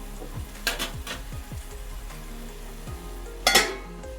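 Spring onion curry cooks down in a covered pan as its water boils off, giving a soft, low sizzle broken by two sharp metallic clinks of the lid or a spoon.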